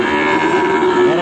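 A young male Ongole crossbred calf at a crowded cattle market in Kebumen lets out a single loud, close, drawn-out moo.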